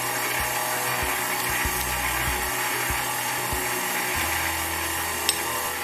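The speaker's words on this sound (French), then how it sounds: "On active notre mélangeur à la première vitesse." Stand mixer on its first speed kneading whole wheat multigrain bread dough with honey and canola oil: a steady motor whir with a rhythmic thumping as the dough turns, close and continuous throughout.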